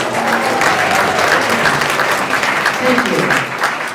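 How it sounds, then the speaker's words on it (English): Renewed round of audience applause for Marine Corps veterans at a Sedona veterans gathering, loud and steady clapping throughout as someone speaks briefly over it. "Give them another big round of applause."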